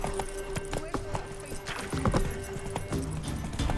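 Horse hooves clip-clop on ground in The Witcher 3: Wild Hunt, a quiet rapid patter of steps heard beneath game dialogue.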